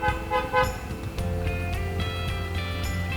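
Car horns honk in road traffic: a couple of short toots at the start, then a longer sustained horn over a low engine rumble.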